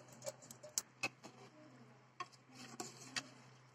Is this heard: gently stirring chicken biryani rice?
yes